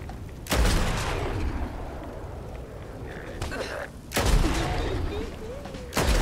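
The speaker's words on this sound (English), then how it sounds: "It is full auto, so if I hold down the trigger here, it will continuously shoot." Bursts of full-auto fire from a shoulder-mounted machine gun in a modded Fallout 4, heavy sustained volleys with short gaps, loud and close, with a voice under the shooting.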